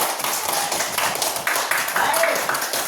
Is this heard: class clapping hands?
yes